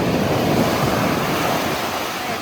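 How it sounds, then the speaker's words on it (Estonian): Large waves crash and roar onto a windy Koh Samui beach, a loud continuous wash of surf with heavy wind buffeting the microphone throughout, with no voices. "Ma ei olegi kunagi Tais näinud nii suuri laineid."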